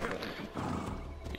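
A horse gallops in Assassin's Creed Odyssey, a quick run of hoofbeats over a short stretch, faint in the game mix with low ambient noise.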